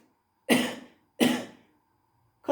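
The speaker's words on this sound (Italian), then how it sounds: "provate a fare dei colpi di tosse" Two sharp deliberate coughs, close and loud, evenly spaced about a second apart, with a third starting at the very end, done as a breathing exercise pressing below the breastbone.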